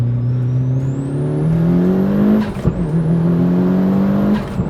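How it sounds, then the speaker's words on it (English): A 550hp Ruri Blue Mitsubishi Evo 9 revs hard through the gears, its loud engine note climbing in two long pulls with a shift break between them. "552 horsepower in an Evo is very fun."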